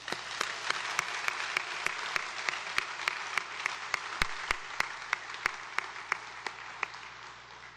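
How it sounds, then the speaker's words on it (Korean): A church congregation in Bucheon claps at a Liberation Day service, a soft steady patter of many hands with sharp individual claps standing out at regular intervals, moderately distant. "우리 하나님께 영광의 박수를 한번 올려드리길 바랍니다"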